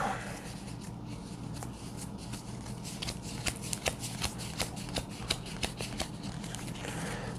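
Playing cards from a deck being handled and counted one by one, with a quick irregular run of crisp flicks and slaps close by, no talk.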